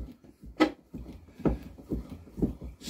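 A metal bench vice being worked gives off short, rhythmic creaking squeaks from its base plate, about one every half second, close and fairly quiet with no talking.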